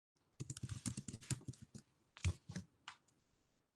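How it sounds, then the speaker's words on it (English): Someone types on a computer keyboard in a quiet room, with a quick burst of light clicking keystrokes, a louder tap near the end, then a short pause and one final key press. "In the search bar, I typed in job search."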